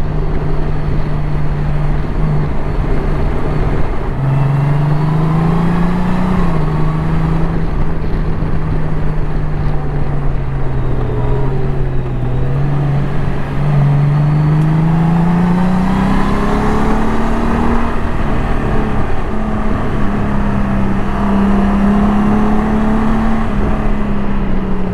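Honda GoldWing motorcycle engine revving, a loud close steady hum whose pitch rises and falls in drawn-out swells throughout, with no talking.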